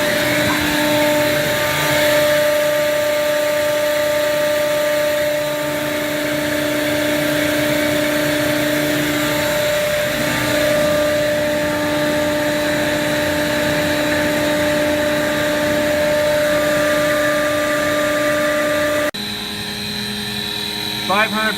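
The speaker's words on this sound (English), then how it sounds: "Skid is noisy again." A noisy high-pressure hydraulic test rig skid runs steadily and loudly at full operating temperature, with a strong droning whine and tonal hum throughout, and a shift in tone near the end.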